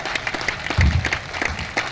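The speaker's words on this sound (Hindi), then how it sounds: "तालियों से इनका स्वागत अभिनंदन करें" Applause welcoming four coordinators at a government employees' strike gathering, a short burst of crowd clapping with a brief thump, about two seconds long.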